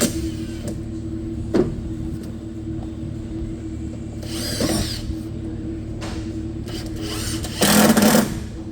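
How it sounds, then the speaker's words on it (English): A power driver screws a 2x4 onto a wooden pallet in a circuit breaker workshop. Two brief buzzing bursts rise above a steady low background hum. "why am I screwing that 2x4 on the pallet?"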